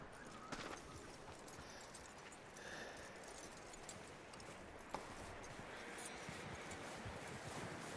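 Horse hooves clip-clopping in the video game Red Dead Redemption 2, a steady, faint stream of hoofbeats under wind and outdoor ambience with one sharper knock partway through.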